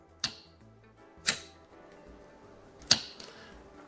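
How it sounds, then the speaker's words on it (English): Golf cart solenoid clicking on with the key switch after its leads were reversed, three sharp, close mechanical clicks spaced about a second apart over a quiet background. "Turn that key switch on, hear that click."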